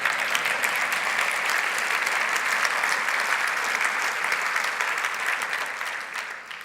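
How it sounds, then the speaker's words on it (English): A crowd at a State of the City address breaks into steady applause, a dense, even roar of many hands clapping that holds at a constant level before fading slightly at the end, heard from within a large room. "That's an applause line."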